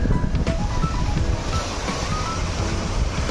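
Pacific Ocean surf washes against a rocky coast in a steady, dense roar, loud and close, with wind buffeting the microphone and no voices.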